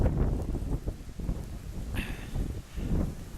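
Wind blows hard during a snow blizzard, buffeting the microphone with a steady, gusting low roar.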